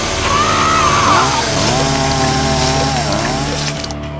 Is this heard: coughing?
no